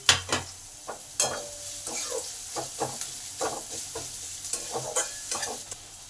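Finely chopped onions and chopped green chilies fry in hot oil for a fish-chop filling, a steady sizzle broken by repeated stirring scrapes and clinks of a spatula against the pan, close and fairly loud.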